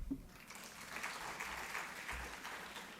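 An audience at a parenting book launch claps throughout, a steady broadband patter of many hands, fairly loud and continuous with no speech on top.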